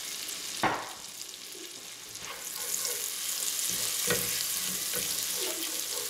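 Butter and oil sizzle steadily in a hot pan, a continuous close hiss broken by a few sharp clinks and stirring sounds, with no talk.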